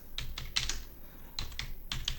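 Quick clusters of key presses on a computer keyboard as text is typed in, three short bursts of crisp clicks close up with brief pauses between them.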